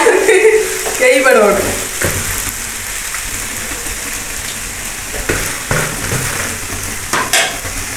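Kottu roti curry is stirred and fried in a pan, giving a loud, continuous sizzle with scraping and clattering strokes throughout, plus a brief patch of voices near the start.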